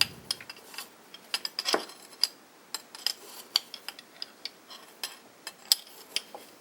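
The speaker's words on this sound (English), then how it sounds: "she's struggling to get the coffee on the spoon because of a tremor" A spoon scooping ground coffee, scraping and clinking irregularly against a jar or cup, held by a person with a hand tremor; small sharp ticks close by in a quiet room, no talking.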